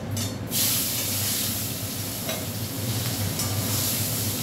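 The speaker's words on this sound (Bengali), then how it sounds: "এবার পেঁয়াজটা দিয়ে দেবো" Onion added to hot oil after fish has been fried sizzles loudly and steadily in the pan, a dense continuous hiss with a short stirring scrape at the start.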